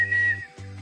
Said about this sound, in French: leur cri de rassemblement, c'est-à-dire en sifflant 3 fois rapidement